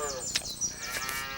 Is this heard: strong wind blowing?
no